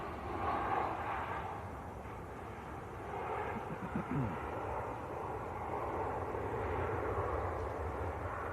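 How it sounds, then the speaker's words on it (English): Aer Lingus Airbus A330 at Manchester Airport, a steady distant jet engine rumble and whine from the taxiing airliner, faint and continuous. "Got an Aer Lingus A330 about to taxi out as well."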